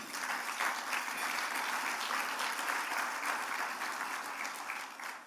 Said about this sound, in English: we'll show them a little round of applause and thanks